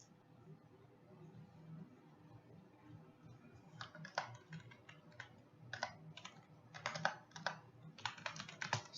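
Keys clicking on a computer keyboard in quick bursts of close, crisp taps that start a few seconds in, over faint room hum.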